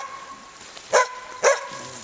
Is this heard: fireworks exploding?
no